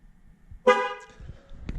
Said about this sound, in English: it honks and lets you know the tire is trained